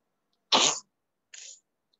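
Two short coughs from one person during an online English lesson for young children, the first loud and rough, the second briefer and fainter, with silence around them.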